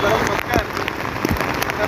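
Heavy rain falls beside the flooding Badlapur river as a dense, continuous hiss that fills the scene. A voice speaks faintly beneath it.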